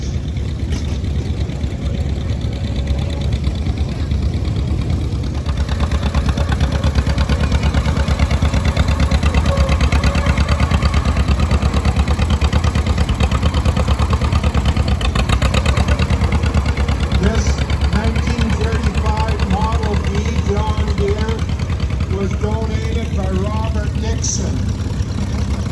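A vintage John Deere Model A tractor engine runs steadily at a tractor show, a loud continuous low rumble throughout with a public-address voice speaking over it.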